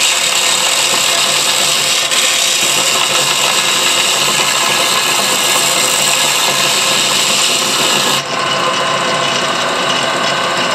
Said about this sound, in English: While I'm here at the sander,